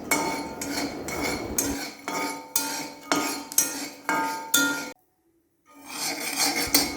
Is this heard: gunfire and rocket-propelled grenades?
no